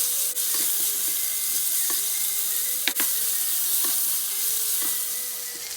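Ginger garlic paste and chopped tomato frying in a pan for crab curry, a bright continuous sizzle with a few sharp clinks of a spoon stirring, close and fairly loud, no talking.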